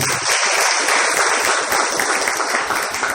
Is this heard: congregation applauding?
yes